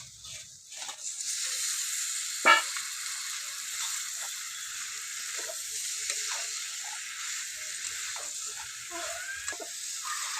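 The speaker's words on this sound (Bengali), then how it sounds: "মশলা থেকে তেল ছেড়ে এসেছে এবার আমি মধ্যে দিয়ে দেবো ফুলকপি আর আলু ভেজে রাখা" Fried cauliflower and potatoes go into sizzling spiced oil for a Bengali cauliflower dalna, a steady hissing sizzle with a brief clatter as they drop in and occasional stirring scrapes.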